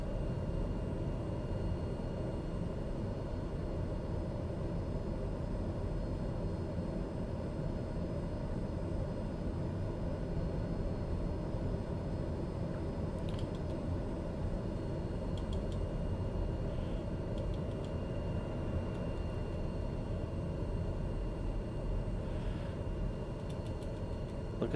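Steady, even drone of a TBM 850 turboprop engine in Microsoft Flight Simulator while taxiing with a little throttle, a constant broad hum holding at moderate level throughout without speech.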